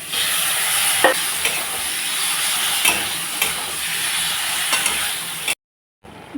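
Spice paste frying with salt and goat liver in a pan, steady loud sizzle with repeated scraping stirs, cutting off abruptly near the end.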